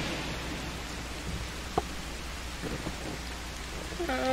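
Steady rain hiss from a stormy night in a Bigfoot horror video game, with a brief sharp crack of lightning near the middle and faint rumbling, continuous and fairly quiet with no talk.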